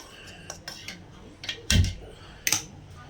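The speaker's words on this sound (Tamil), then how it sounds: "அடுப்பத்தை வச்சு இந்த மாதிரி ஒரு வடசட்டி வச்சுக்கோங்க" A metal wok set down on a home kitchen stove before cooking mushroom curry, giving a few sharp clanks and scrapes, one heavy thud near the middle and a final bright clatter, close by with no talk.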